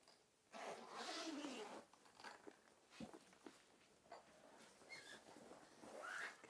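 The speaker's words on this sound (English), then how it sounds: "undo the zips" Zips on the carry bag of a Jackery Explorer 2000 Plus solar generator are pulled open in a few drawn-out zipping strokes, close and moderately loud, with small handling clicks and rustles between them.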